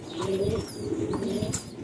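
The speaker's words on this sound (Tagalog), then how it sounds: "nilalaro namin yung ibon namin ng kapartner ko, si Paring Bernard, sa South at Summer." Pigeons coo steadily at a pigeon loft in Lawa village, with low, throaty, overlapping calls repeating in a soft rhythm close by, and occasional faint chirps above them.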